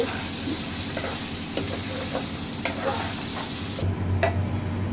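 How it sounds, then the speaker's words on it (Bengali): Paneer pieces fry in hot oil in a pan, with a continuous loud sizzle and repeated scraping stir strokes close by. "একটু মিডিয়াম করে ভেজে নেব পনিরগুলো"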